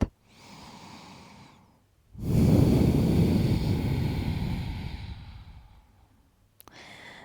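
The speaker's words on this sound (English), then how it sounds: "One more deep breath." Deep breathing during a gentle yoga session: a soft inhale, then a long, full exhale swelling loudly and slowly fading, heard up close with no talk.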